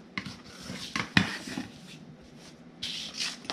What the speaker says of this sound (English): And then I'll close it and use my big old spatula to seal it.